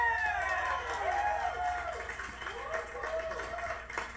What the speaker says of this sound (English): Might be the only time we see Tim applauding.